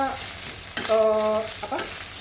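Fried rice stir-fried over high heat on a home stove as sweet soy sauce goes in, a loud steady sizzle with scraping stirs of the spatula and a brief ringing metallic clang of the pan, no talking.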